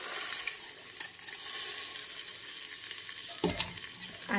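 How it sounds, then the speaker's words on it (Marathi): Rice and mung dal fry in a pan with a steady, bright hiss, and a couple of light scrapes or clinks cut through it. The sound is close and continuous, with no talk. "आणि असं छानपैकी असं फ्राय घालायचं आहे"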